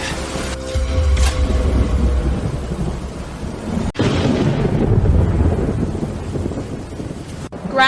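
Heavy rain pours during a thunderstorm in a village, with rolling thunder rumbling loud and close, wind buffeting the microphone, and a constant roar of downpour throughout.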